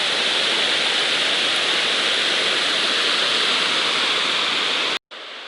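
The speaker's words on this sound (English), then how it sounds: "This is a cascade at Pine Point." Broad, steady roar of a fast-moving river cascade at Pine Point in the 100 Mile Wilderness, loud and continuous, cutting off abruptly near the end.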